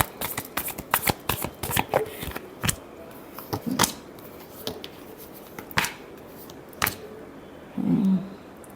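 Tarot cards are shuffled by hand in a final shuffle, producing a run of sharp, crisp riffling snaps and softer sliding bursts close to the listener, with a short rustle near the end and no speech.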